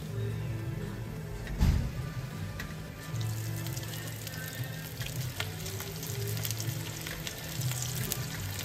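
Semolina chips sizzle steadily in hot oil, a continuous close crackling hiss with a brief louder spatter near the start and no one talking.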